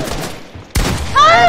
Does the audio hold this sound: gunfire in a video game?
yes